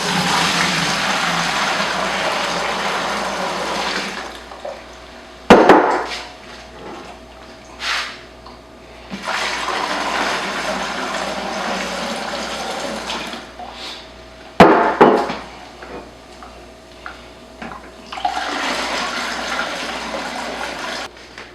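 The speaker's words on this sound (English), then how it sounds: "this 5-gallon bucket here, I'll be pouring in a mixture of all 3 of these" Kombucha pours into a 5-gallon bucket in steady gushing splashes, broken by a couple of sharp knocks and clunks as containers are handled, close by with no talk.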